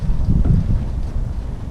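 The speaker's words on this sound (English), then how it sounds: "It's kind of windy right now, so I'm not gonna primer the car" Gusty outdoor wind buffeting the microphone in a yard with a bush and palm tree, a steady low rumble that swells and dips briefly, with no other sounds.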